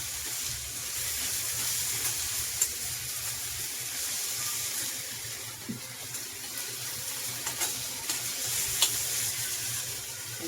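Cooked green peas tipped into onion and tomato roasting in a pan, a steady sizzle and hiss running throughout with a few small clicks and stirring scrapes, no talking.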